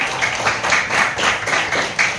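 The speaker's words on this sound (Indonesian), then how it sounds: "kasih tepuk tangan" Applause from a classroom group of students, rapid dense hand clapping with a few louder pulses, close and steady for a couple of seconds with no talking over it.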